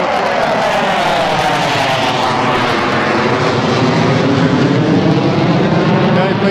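A loud, steady aircraft engine roar over a seaside beach fills the whole stretch, close and continuous, with a deep droning rumble.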